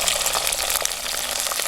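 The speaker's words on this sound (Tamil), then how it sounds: "நாங்கள் வெங்காயம், பச்சை மிளகாய், உள்ளி மூன்றும் நல்லா பொன்னிறமாக வதங்கி வர அளவுக்கு எண்ணெயிலேயே வதக்கி" Shallots, green chillies and garlic frying in hot oil for a mango and fish curry, a dense, close, continuous sizzle and crackle with no talking over it.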